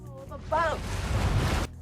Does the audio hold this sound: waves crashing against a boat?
yes